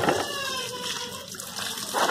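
Leafy vegetables are rinsed in water to wash off soap, giving a steady close sloshing and splashing with brief surges at the start and end, with no one talking.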